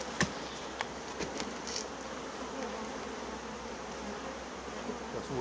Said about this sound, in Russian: уже возвращаются, уже много пчелы